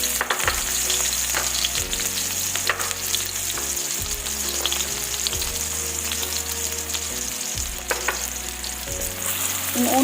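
Onion frying in a little oil in a home kitchen pan, a steady loud sizzle with occasional stirring scrapes and crackles throughout.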